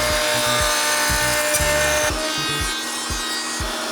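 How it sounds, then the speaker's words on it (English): Router table fitted with a straight bit cutting a groove into a wooden slat from a garden chair: a loud, constant motor whine with steady cutting noise throughout, close up and with no talking. "I'm using a straight router bit to cut this groove that the cork will fit in"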